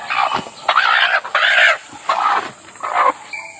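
A hen clucks in short, repeated bursts close by, with brief pauses between each call.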